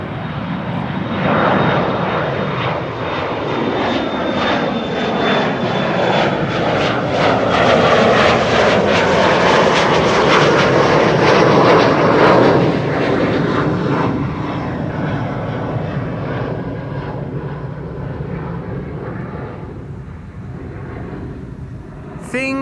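Airbus A330neo jet departing Schiphol runway 24, its engine roar swelling to a loud broad peak midway and then slowly fading into the distance, heard alone without talk.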